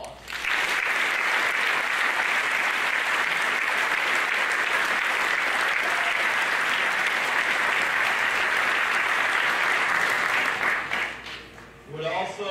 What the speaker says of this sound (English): Let's give our donors another round of applause.